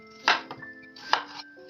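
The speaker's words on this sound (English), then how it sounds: "Look how I'm slicing them" Two crisp knife cuts through potatoes on a cutting board, each a sharp thunk with a short tail, spaced about a second apart with faint kitchen hum.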